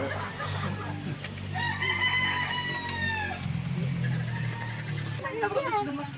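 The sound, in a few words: chicken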